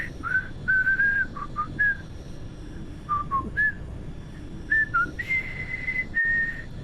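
A person whistles a slow, wandering, off-key tune, alone and close up, with short sustained notes broken by pauses over a faint steady background hiss.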